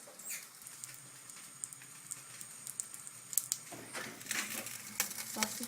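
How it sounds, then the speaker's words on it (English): Sausages fry in a pan, giving a quiet, steady crackle and patter of small pops that grows busier and louder toward the end, with no talking. "Sausages cooking."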